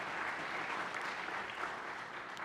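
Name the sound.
audience applause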